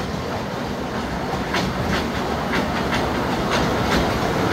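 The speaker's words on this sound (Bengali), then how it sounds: "যে ট্রেন সিলেট শহর ঘুরে কয়লা ইঞ্জিন চলে আসতেছে।" A coal-engine park train running on its track in a park in Narsingdi, giving a steady rolling rumble with faint rhythmic clicks of wheels, close and continuous with no talk.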